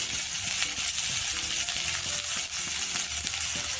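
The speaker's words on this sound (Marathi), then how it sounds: "त्यामध्ये थोडं अगदी तेल घातलं त्यामध्ये मोडं जे घेतले ते घातलं थोडंसं अगदी एक दोन मिनटं परतून घ्या" Sprouted beans sautéing in a little oil in a kadai for a Maharashtrian festive thali, giving a steady close sizzle with occasional spoon scrapes and light clinks throughout.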